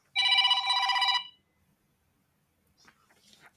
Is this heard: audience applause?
no